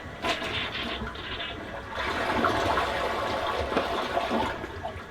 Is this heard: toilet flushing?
yes